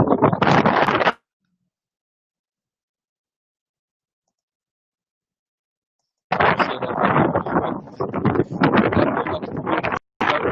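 Heavy wind on a beach buffets the microphone in loud, rough gusts, broken by a long stretch of near silence before the roaring returns.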